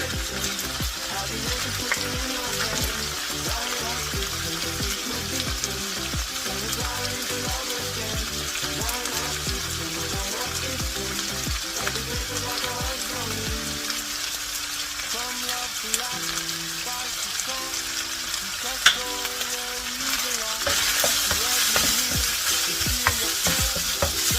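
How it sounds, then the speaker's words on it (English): Onion and garlic fry in a pan while a giant fataya is prepared, giving a steady close sizzle mixed with stirring scrapes that grows a little brighter and louder toward the end. "We will start with the onion and the garlic."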